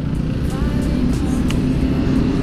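A motorcycle on the road gives a steady, loud engine rumble mixed with wind buffeting, heard up close and continuous throughout.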